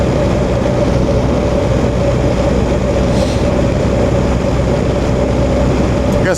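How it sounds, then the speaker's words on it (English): Continuous broadband motorcycle road noise while riding, a loud steady wind-and-engine roar with a low drone that never lets up, heard from the rider's position with no talk. "Everyone says the road noise is bad. Yeah, I can hear that now."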